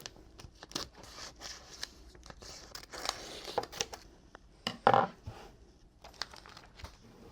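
Decal tape for a tumbler confetti design is cut and handled close up, with crinkling and rustling throughout and a sharper snip or tear near the middle, no talking.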